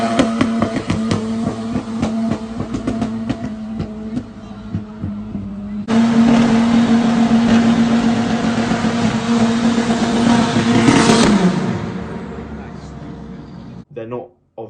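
A Ford Fiesta ST3 engine runs loud and steady, with a deep droning tone that rises into a harder surge of revs before cutting off abruptly near the end.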